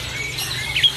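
Adult Asian pied starlings kept for sale at a bird kiosk give a short, thin squawking call, faint against a murky room background with no talk.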